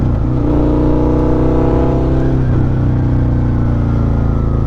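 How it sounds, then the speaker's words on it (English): A Suzuki SV650 V-twin motorcycle with a slip-on exhaust revs loud and close, a deep, throaty engine drone that rises and falls in pitch across several seconds, with no talking. "Fucking love the way the V-twin sounds."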